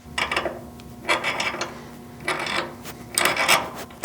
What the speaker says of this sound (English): you can use a pair of pliers to turn it until it's screwed into the stop